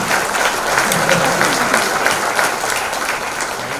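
Sustained audience applause in a conference hall at an HR summit in Chennai, a thick, steady roar of many hands clapping with a few louder claps poking through.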